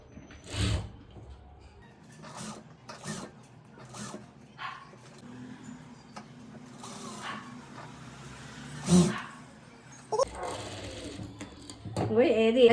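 A sewing machine stitches the lining of a cups blouse in short, separate bursts. Between the runs come quiet handling noises, and a person talks throughout.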